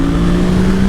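A Suzuki V-Strom 800 motorcycle fitted with a Black Widow exhaust, SC-Project N-can and DNA open air filter, de-catted and remapped, idles close by with a loud, steady low droning rumble.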